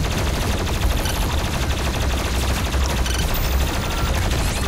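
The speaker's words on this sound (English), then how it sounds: "Oh my god, he shot me." Sustained rapid gunfire from enemies in the video game DOOM Eternal crackles densely and continuously, a chaotic burst of shots at moderate volume with no talking.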